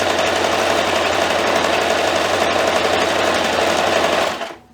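A sewing machine stitches a straight line on fabric with a loud, steady, fast mechanical whir that runs continuously before cutting off abruptly at the end.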